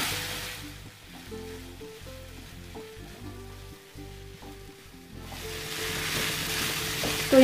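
Masala with Kashmiri red chilli sizzles and fries in a pan while being stirred for paneer butter masala, a steady crackling hiss with soft scraping strokes throughout, louder toward the end.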